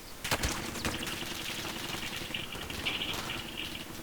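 Rapid gunfire from .357 pistols and other weapons during a Warzone video game match, with a burst of sharp shots early and continuing scattered reports over a busy battle soundscape.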